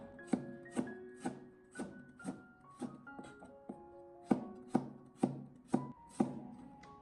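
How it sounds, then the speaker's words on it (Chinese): A knife slices peeled ginger on a cutting board, about a dozen crisp, evenly spaced chops, close and clear, with no voices. "跟住切成片，"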